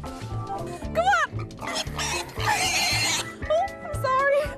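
Pigs being herded on a farm during a children's dare challenge, with grunts and squeals mixed with loud shouting and excited talk throughout.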